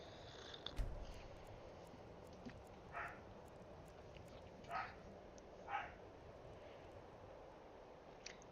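A small dog in the video game Skyrim gives a few short, light barks at intervals over low, steady ambient noise, fairly faint and somewhat distant.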